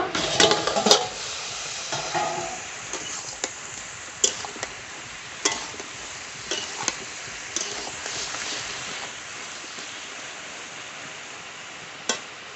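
Bottle gourd and lata fish curry stirred in a pan over low heat, with soft scraping clicks and a few sharper ticks of the utensil against the pan over a faint sizzle, alone and fairly quiet.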